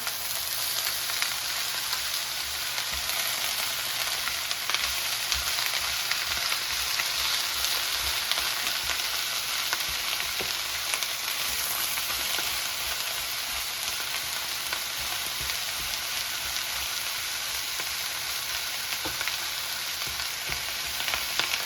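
Red cabbage pan-fries in a skillet, giving off a dense, even sizzle that holds steady and close throughout, with no one talking.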